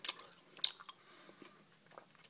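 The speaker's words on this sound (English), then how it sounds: "It's a bit of a heavy chew to get through it" Close, quiet chewing on a Squrtz chewy candy, with two sharp wet bites followed by softer squishing and smacking mouth sounds.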